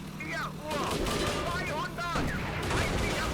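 Blind gunfire from tanks in the WWII tank combat game Steel Fury, Operation Fredericus, with sharp shots over a steady engine rumble under overlapping talk.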